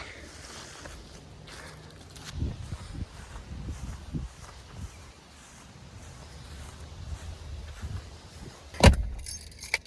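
A bunch of keys jangles in a few soft bursts inside a truck, with a sharper rattle near the end against a quiet outdoor morning.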